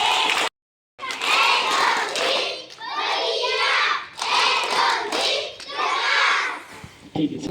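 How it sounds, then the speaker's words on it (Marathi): An audience claps hard in a loud, dense wave of applause with excited children's voices mixed in. It begins after a brief silence and carries on in strong surges for several seconds. "टाळी मोठ्याने वाजवायची आणि व्यवस्थित जोरात टाळी झाली पाहिजे"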